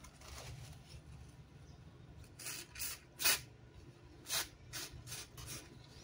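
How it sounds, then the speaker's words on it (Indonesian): Several short hissing bursts of cleaning fluid sprayed onto a rusty part of a discarded, dead electric fan, irregularly spaced over a low steady background hum, moderately close. "kita bisa semprot pakai cairan pembersih"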